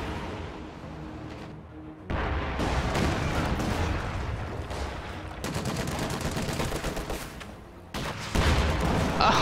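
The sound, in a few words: Katyusha rocket artillery barrage in a strategy video game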